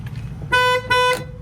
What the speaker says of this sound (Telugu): Bluetooth horn